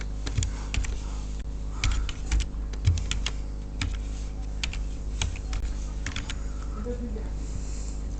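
Typing on a computer keyboard in a short burst of key clicks with irregular rhythm and a few louder strikes, close and moderately loud over a low steady hum, with no talking.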